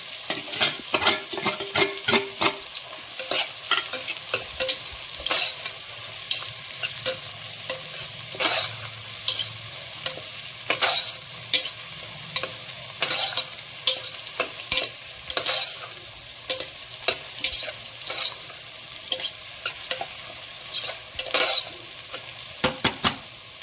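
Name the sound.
sautéing onions with crushed ginger and garlic in a pan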